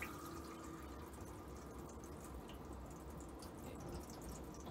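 Water runs steadily from a caravan's kitchen tap, a continuous close splashing hiss with a little trickle and no voices.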